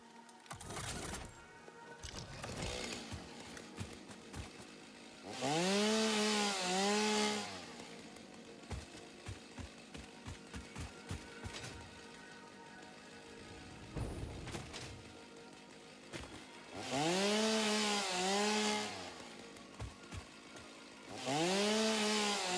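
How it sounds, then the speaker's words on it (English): A chainsaw in the factory-building game Satisfactory revs up in several loud bursts with a rising and falling whine, separated by idling and clunking sounds, all close and without speech. "I'm gonna need my chainsaw back."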